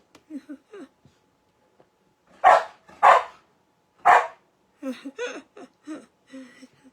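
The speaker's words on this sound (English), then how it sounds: "There's my dog barking outside, and Sydney's going to bark in here." A dog barks outdoors in three loud, sharp bursts partway through, with quieter talk before and after the barking.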